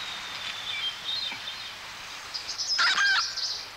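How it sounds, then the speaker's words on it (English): Bird call in the woods, thin high chirps at first, then a louder harsh, agitated burst of calls at a moderate distance over quiet outdoor background. "Sounded like a bird. Not a very happy bird."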